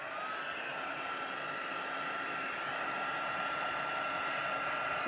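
A heat tool blows steadily over stamped paper card backgrounds to dry the ink, giving a constant close whirring hiss with no pauses and no talking.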